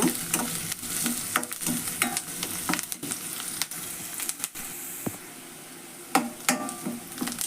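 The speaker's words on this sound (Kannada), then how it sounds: "ಉಳ್ಳಾಗಡ್ಡಿ ಸ್ವಲ್ಪ ಜಾಸ್ತಿ ಹೊತ್ತು ಕರಿಬೇಕು" Onions fry in a pan for chavalikai palya, giving a close sizzle broken by frequent spatula scrapes and taps, with no voices.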